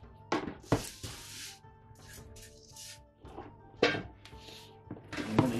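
An old washing-up bowl full of harvested sand takes something dipped into it during hedge work, giving a few close, dull thuds and gritty scrapes spaced over several seconds, with no talk.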